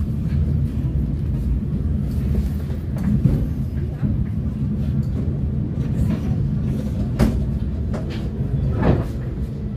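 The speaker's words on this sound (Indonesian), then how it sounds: "kereta api berantas saat ini telah tiba di stasiun Cirebon Rujakan" KA Brantas economy-class train pulling into Cirebon Prujakan station, a low continuous rumble of wheels and carriages with intermittent clanks and knocks, heard from on board with faint background voices.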